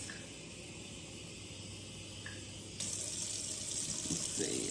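Tap water running steadily into a measuring cup for cooking rice, a close, even hiss that grows louder and brighter partway through as the flow increases.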